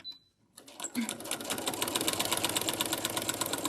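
After a brief silence, a sewing machine with a walking foot starts up stitching a quilt sandwich, its fast, even mechanical chatter building and running steadily up close.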